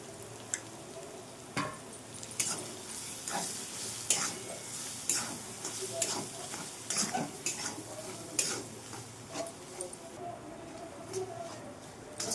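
Pea kachori filling stirred and fried in a pan, with an irregular run of close scraping stirs and soft sizzling over a steady low frying hiss, no voices.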